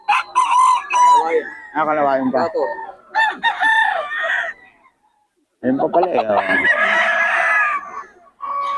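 Black hens cluck and crow close by in bursts, with people talking between and over the bird calls.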